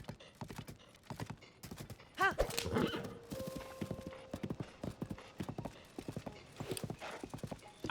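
Link's horse in Zelda: Tears of the Kingdom trots along in a steady clip-clop of hooves and gives a short whinny partway through, close and clear, with a voice murmuring faintly underneath.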